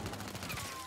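Rapid video game gunfire crackles in a dense, steady burst from a multiplayer shooter, loud and continuous through the short moment with no talk over it.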